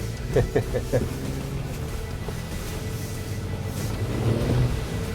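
2026 Honda Passport TrailSport SUV climbing a steep off-road hill, its engine a steady low rumble that swells toward the end, with a few brief knocks early on and faint voices in the cabin.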